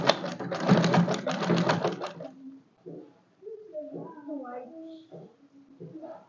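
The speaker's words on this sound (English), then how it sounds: "And I'm going to sew it down on 1/2 inch" A sewing machine stitches the shoulder seam of a frock dress at a half-inch allowance, running in a close, rapid burst for about two seconds, then stopping; a person talks quietly afterward.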